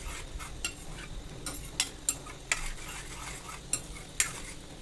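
Ginger garlic paste frying in a pan as a spoon stirs it, giving repeated quick scraping clicks against the metal over a soft sizzle.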